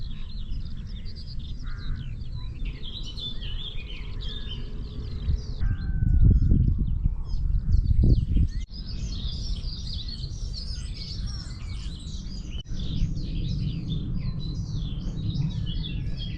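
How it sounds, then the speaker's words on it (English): Many birds sing at sunrise along the Ridgeway countryside trail, a dense, continuous chorus of chirps and trills over a low rustling background, with a brief louder rumble in the middle. "So many birds,"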